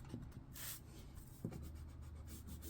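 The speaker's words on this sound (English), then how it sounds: "I just want to take my eraser and I just want to erase my lines" Rubber eraser scrubbing pencil lines off paper for a folded zipper belly band, soft close rubbing strokes in brief bursts against a quiet room background.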